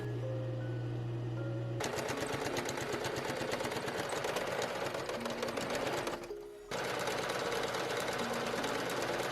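A sewing machine stitches a pocket onto a corset dress, a fast steady mechanical rattle that starts after a short hum, pauses briefly near the end, then resumes.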